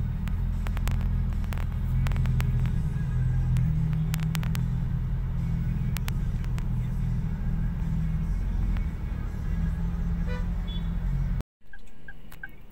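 A steady low engine and road rumble fills the inside of a Toyota Avanza crawling through heavy traffic, with faint clicks on top. The sound cuts out abruptly near the end, then returns briefly.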